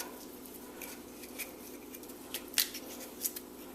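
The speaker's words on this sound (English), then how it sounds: "what I'm going to do is cut that out So again, I'm just using the edge of the paring knife here" A paring knife cuts the root out of a piece of cassava, producing faint, sparse crisp snips and scrapes close by, with a few sharper clicks toward the end over quiet background and no talking.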